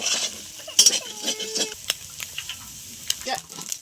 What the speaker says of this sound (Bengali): কড়াইতে তেল দিয়ে দিয়েছি, ডিমটা ভুজিয়া করে নেব।